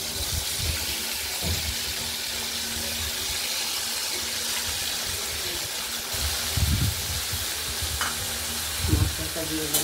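Ground masala paste of cumin, coriander, ginger and chilli sizzles steadily in a pan with prawns, a constant frying hiss broken by occasional stirring scrapes and clatters.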